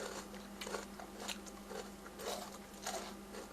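Crispy pork rinds being bitten and chewed close up, a run of repeated crunching bites at an even pace over a low steady hum.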